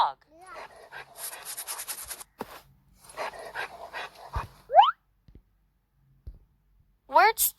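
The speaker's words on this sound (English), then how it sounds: "Dog." A dog is heard with short whimpers and panting amid bursts of clicking, with a voice speaking in between and two sharp rising chirps near the end.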